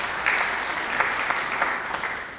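An audience at a Lambda Pi Eta honor society induction ceremony claps for introduced chapter officers, a short stretch of moderate group clapping with a few sharper individual claps standing out.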